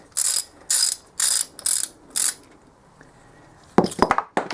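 A socket ratchet clicks on a 14mm cam chain tensioner bolt of a pit bike engine in five quick bursts of sharp pawl clicking, then a few louder metallic clinks and clatters close by.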